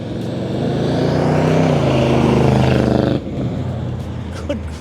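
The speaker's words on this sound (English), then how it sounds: "That is not a quiet car, ladies and gentlemen." A loud, rumbling big-block engine of a 1970 Buick Riviera roars steadily, swelling in intensity before dropping abruptly to a lower idle-like drone near the end.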